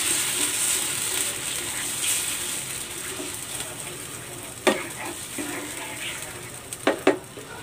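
Coconut cream going into a hot pan of tambakol Bicol Express, with a steady soft sizzle throughout, then a few close, sharp clinks and scrapes of a utensil against the pan near the end.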